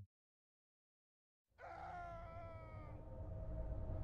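After a moment of silence, a wailing, drawn-out scream rises in a nighttime forest in the game Missing Hiker, followed by a lower rumbling ambience.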